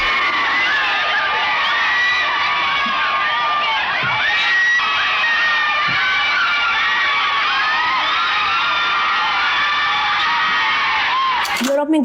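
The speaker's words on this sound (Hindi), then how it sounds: "यकीन न हो तो ये चिल्लाने की आवाजें सुन लीजिए" Large 1931 London crowd cheering, shouting and whooping continuously, a dense wall of voices with children's shrieks mixed in, steady and loud throughout on an archival recording.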